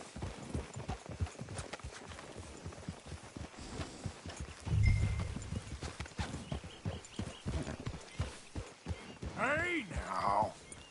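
Horse hooves clip-clop steadily in Red Dead Redemption 2, with a whinny rising near the end, all beneath a man's speech and ambient game sound.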